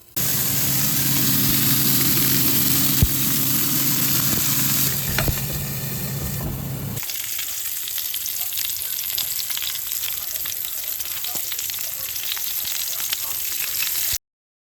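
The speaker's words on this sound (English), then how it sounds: "Really fry the edges." Meat edges fry in a hot pan with a loud, close, continuous sizzle that drops in intensity partway through and then keeps crackling steadily, with no one talking over it.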